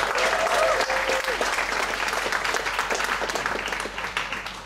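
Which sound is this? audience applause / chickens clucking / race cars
audience applause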